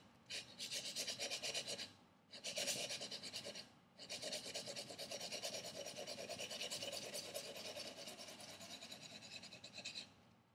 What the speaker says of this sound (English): 500 grit sandpaper.